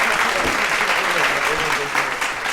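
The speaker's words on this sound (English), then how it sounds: "round of applause" Audience applause in a hall, continuous clapping from a group with some voices mixed underneath.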